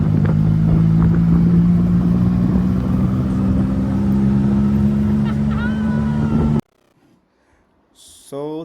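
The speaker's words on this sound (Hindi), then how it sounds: "एक आखिरी बार टुक टुक राइड बैंकॉक की सड़कों पे।" A tuk tuk rumbles through Bangkok streets with a loud, steady engine drone and traffic noise close by, then it cuts off abruptly into near silence before a short burst of sound at the end.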